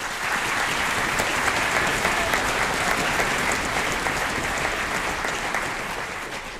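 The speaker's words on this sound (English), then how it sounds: "If we could give them a round of applause, please." Steady, dense audience applause fills a school auditorium after a 7th grade band spring concert, a broad continuous wash of clapping that holds level and tapers slightly at the end.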